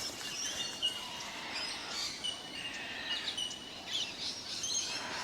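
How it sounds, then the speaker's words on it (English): Many birds singing along a riverside walking trail, with overlapping high chirps and warbling calls at moderate distance over a soft, steady outdoor ambience and no voices. "you can hear so many birds humming"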